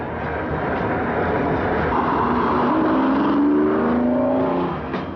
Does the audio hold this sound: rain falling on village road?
no